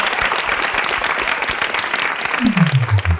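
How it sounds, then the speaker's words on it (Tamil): A packed auditorium audience claps steadily through the whole stretch at a school and college students' Thirukkural speaking competition, loud dense applause with a single voice beginning to speak near the end. "ஒரு அரங்கம் நிறைந்த கைத்தட்டல் வாழ்த்துக்கள்"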